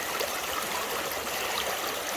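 A chilly creek flows steadily, its water rushing and trickling in a continuous close-up wash with no talk over it.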